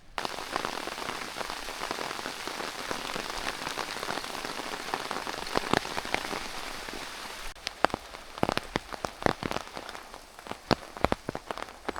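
Steady heavy rain falling on a hillside walk near hillforts and stone circles, a dense continuous patter with sharper individual drops striking close by in the latter part, no voices.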